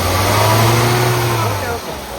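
A 2012 Hyundai i10 Magna petrol car engine is revved up close, a loud rising then falling roar with someone speaking over it.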